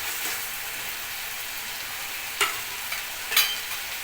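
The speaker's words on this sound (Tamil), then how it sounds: "அதையும் இந்த வெங்காயத்தோடு போட்டு வதக்கிறணும்" Onions sautéing with ginger garlic paste in a pan for a rye semiya egg biryani, a steady sizzling hiss with a couple of sharp stirring scrapes.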